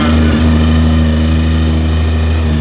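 A car with a Toyota 1J engine runs loud and close, a steady, throaty engine drone with strong low harmonics and a brief rev near the start.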